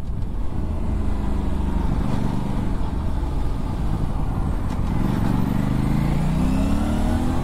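Aprilia RS 457 motorcycle engine while riding below 5000 RPM, a steady close engine drone mixed with wind noise, rising slightly in pitch toward the end as it accelerates.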